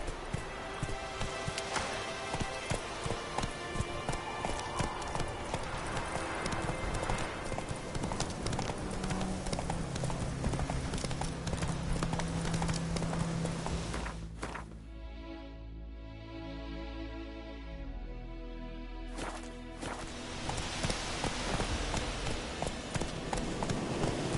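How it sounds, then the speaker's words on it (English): Roach, the horse in the video game The Witcher 3, gallops with steady, loud rhythmic hoofbeats throughout, the pace shifting near the middle, with faint game background sound. "Run, Roach."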